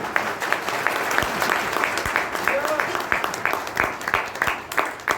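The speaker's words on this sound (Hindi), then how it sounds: "ताली बजाने के लिए लोग बॉम्बे से लेके आओ" Scattered clapping from an audience at a wellness products talk, with irregular sharp claps heard under and between speech.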